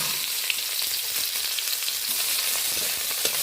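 Onion and halved green chilies frying in hot oil with black cumin tempering, a steady, close crackling sizzle with small pops throughout and no talking.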